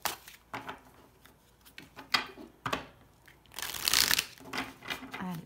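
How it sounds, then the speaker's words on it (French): Six tarot cards laid out one by one on a table, giving soft papery slaps, slides and shuffling rustles spread across a few seconds, with a louder burst of crisp card friction near the middle. "on pose les 6 cartes"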